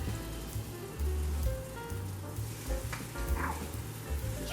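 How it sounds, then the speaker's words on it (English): French toast made from homemade quick casserole bread frying in a hot pan, a steady close sizzle with low thumps and clatter as slices are laid in. "start taking your French toast that you're putting in there and put it in the pan"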